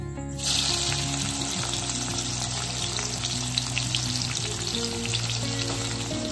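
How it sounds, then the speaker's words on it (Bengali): Onions frying in oil in a wok for a meat curry give a steady, close sizzle that crackles and hisses throughout, with no voices. "কড়াইতে তেল দিয়ে দিয়েছি, এখন পেঁয়াজটা মাংসের জন্য ভেজে।"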